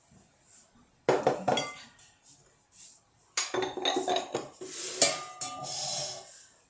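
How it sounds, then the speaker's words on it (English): A spatula scrapes down a mixing bowl of chiffon cake batter with scraping and clinking strokes against the bowl, close and fairly loud, in uneven bursts with brief pauses. "now I'm going to scrape this down. I'm going to add the flour."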